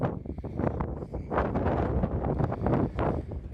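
Strong gusty wind buffeting the microphone over a ploughed farm field, a continuous roaring rumble that swells and dips throughout, with no voices.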